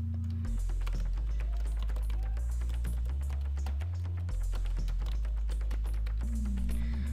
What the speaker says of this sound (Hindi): तो यहाँ पे हम अपना डिस्क्रिप्शन टाइप कर सकते हैं।